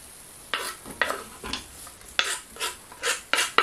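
Sausage pieces and onion stirred in a frying pan for a hot dog with courgettes, a series of about eight scraping strokes with a soft sizzle underneath, close and fairly loud with no voices.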